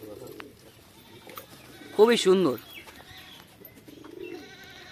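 Bali pigeons give a short, loud burst of cooing midway through. Quieter ambient sound surrounds it, and a person speaks briefly.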